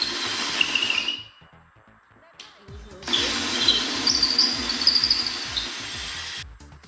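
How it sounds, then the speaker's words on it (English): A power drill runs in two bursts, whining steadily with a short quiet gap between them, close and loud, with grinding as it bores 3/8-inch holes through metal for a dance pad. "you are just going to push it through and drill"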